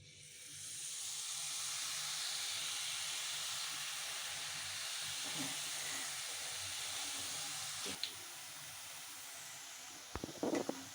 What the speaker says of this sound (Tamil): இப்போ வந்து ஓமப்பு பொடி நம்ம புழிஞ்சிக்கலாம்